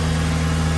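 A Toyota MR2 Mk1 engine idles high just after a cold start, a steady loud droning hum with constant even revs and no voices.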